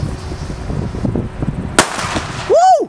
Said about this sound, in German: Ein D-Böller.